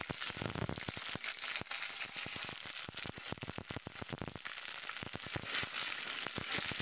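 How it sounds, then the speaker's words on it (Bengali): Potato pieces tossed into a hot pan for a Bengali vegetable curry and stirred, a busy stream of sizzling crackles and scraping clatters, close and steady. "আলুটা দিয়েও আর একটু নেড়ে নেব।"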